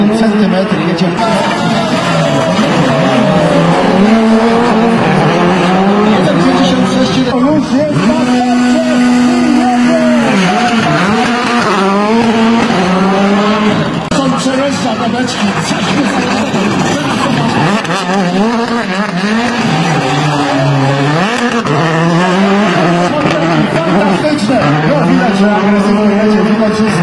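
A race car at the Karowa street criterion in Warsaw swings around a barrel, its engine revving and dropping in rapid sweeps and its tires squealing through the turn. The sound is loud and close, with a commentator talking throughout.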